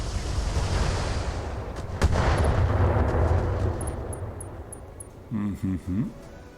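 Long-range missile volleys fire in a BattleTech mech battle, a dense rumbling barrage with a sharp launch burst near two seconds, fading toward a few short thumps at the end while a voice talks over it.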